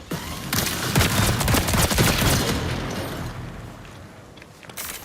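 Rapid battery gun fire from the video game Marathon, a sustained loud volley of shots for several seconds that thins out, then a brief burst near the end.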